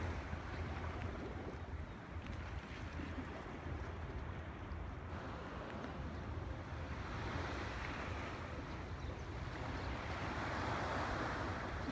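Sea waves and wind on the Sea of Cortez in the morning: a continuous, rushing surf with gusty wind buffeting the microphone, fairly quiet and steady with no voices.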